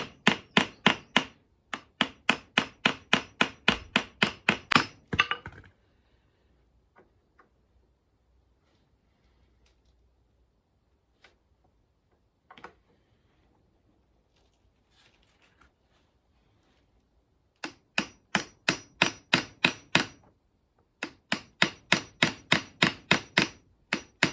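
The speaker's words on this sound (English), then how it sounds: "just tap away till you just peen the end of the pin a bit" Rapid bursts of sharp metallic hammer taps peening a pin end on a Suzuki GS500 motorcycle, one fast run, a long quiet gap with a few scattered light clinks, then two more quick runs of tapping.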